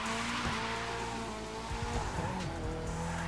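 In The Crew 2 racing game, a Lancer Evo drift car slides with a long, loud tire squeal over a droning engine whose pitch dips and rises as the skid continues, with no voices.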